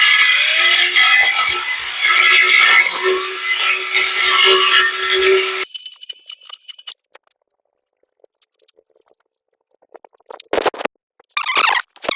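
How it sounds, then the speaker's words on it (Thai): A cordless 21V CGS grass trimmer cutting grass, a loud continuous whine and rasp for several seconds that stops abruptly, followed by quiet rustling and a few brief bursts. "ตอนนี้เขาตัดจนเหนื่อยนะครับสำหรับเครื่องตัดหญ้าไร้สายนะ"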